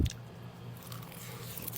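Close, soft chewing of grilled samgyup pork wrapped in nori seaweed, moist crunching and squishing bites heard alone at low volume.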